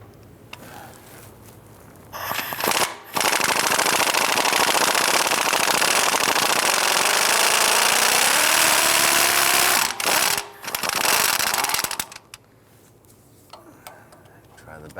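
Power tool, likely an impact wrench, loosening a rusted exhaust manifold bolt on a 1999-2004 Jeep Grand Cherokee: loud, sustained rattling bursts close by, pausing briefly, with quiet shop background before and after.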